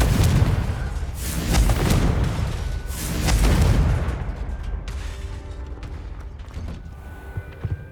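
Confringo blasting spell in Hogwarts Legacy going off as loud, close booming blasts, several heavy bursts in a row that fade into a softer crackling tail.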